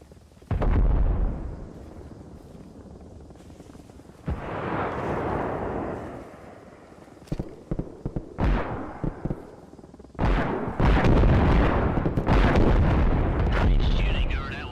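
Gunfire and explosions from the hardcore military shooter Arma Reforger: heavy booming blasts and sharp bursts in several loud clusters, with quieter rumbling stretches between and occasional speech underneath.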